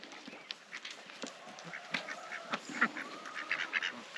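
Scattered duck quacks and honking calls rise and fall over a busy outdoor background at a chicken and duck house, several birds calling irregularly at moderate distance.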